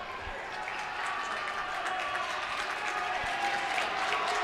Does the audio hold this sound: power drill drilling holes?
no